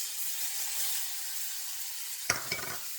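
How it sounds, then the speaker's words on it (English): Diced onions hitting browned sage butter in a pan: a soft, steady sizzling hiss throughout, with a brief louder spatter near the end, close and fairly quiet with no talking. "I'm going to throw in some diced onions."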